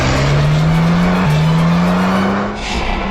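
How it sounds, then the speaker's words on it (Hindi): A car engine drones steadily and loudly with a rising pitch as the vehicle accelerates through a quick U-turn on a road, the tone dropping briefly mid-turn before climbing again, with no talking. "पीछे यूटर्न लो ना और यहाँ दाईं ओर से निकालो गाड़ी,"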